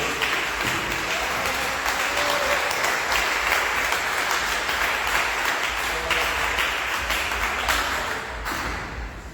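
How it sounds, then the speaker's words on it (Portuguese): A church congregation claps together in a steady, dense burst of applause through the whole stretch, fairly close and loud, with a few faint voices mixed in before the clapping thins slightly at the end. "dê uma salva de palmas bem alegre para Jesus"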